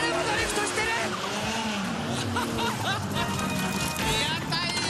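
A D1 drift car keeps drifting after its rear tire flies off, producing roaring engine noise and screeching tire squeal under excited commentary throughout.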